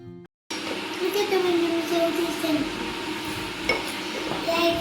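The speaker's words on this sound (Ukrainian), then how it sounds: "Яєшню смажили, а йому зовсім не яєшню." Eggs sizzle steadily in a frying pan with occasional utensil clinks, while a voice talks nearby.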